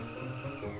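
A car's tires squeal in a short drifting skid in the Car For Sale Simulator video game, with a high, wavering screech over a steady engine drone.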